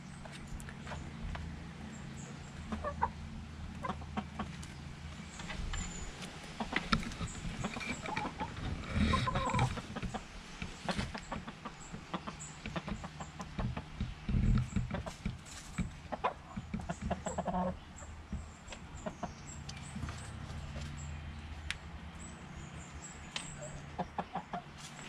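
Chickens cluck and murmur in a backyard run over a long stretch, soft overlapping calls near and farther off with occasional louder squawks.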